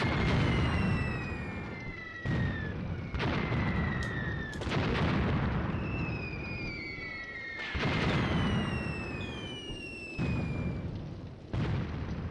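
Mortar and machine gun fire in the WWII tactics game Graviteam Tactics, on the Luga Line at Peleshi: repeated booming blasts roughly every couple of seconds, broad rumbling bursts over continuous battle noise, with whistling tones sweeping down between impacts.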